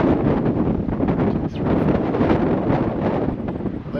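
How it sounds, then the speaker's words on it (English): Strong wind buffets the microphone on a windy day among turbines at a wind farm near Lal Lal Falls, Victoria, Australia, as a steady, loud, rumbling roar with gusty swells and no talking. "it's a windy day, we're generating power"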